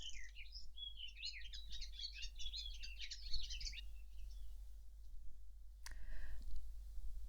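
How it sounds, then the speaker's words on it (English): A single bird sings outdoors, a rapid run of varied chirps and trills that sounds like several birds, fairly faint and distant over a steady low hum, followed by a brief click and quiet. "listen to those birds. That's actually one bird. Sounds like lots, doesn't it?"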